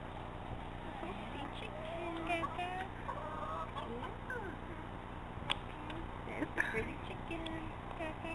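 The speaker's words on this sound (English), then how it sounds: "Come to see the chicken?" Chickens cluck softly and intermittently in the background while people talk nearby, with occasional sharper notes standing out from a steady ambient hum.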